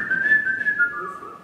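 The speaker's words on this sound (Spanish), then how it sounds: "And I whistled." A person whistles a single sustained tone that wavers gently and then drops slightly in pitch, close up and clear, with no talk over it.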